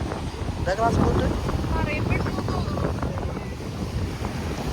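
A glass-bottom boat running across open sea off Lakshadweep, a steady roar of engine, wind buffeting and splashing water, with brief voices heard over it.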